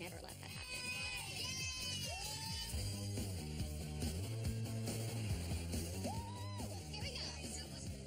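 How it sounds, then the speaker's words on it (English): Members of an a cappella group scream, whoop and shout as they run around backstage before a competition, a lively blend of excited yells and chatter heard at moderate distance. "letting his group run around and scream and dance"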